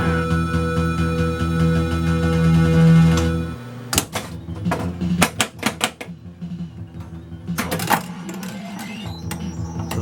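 An Arena pinball machine starts a game, a sustained electronic tone giving way to sharp mechanical clacks, solenoid knocks and ringing clicks, loud and close, with no talking.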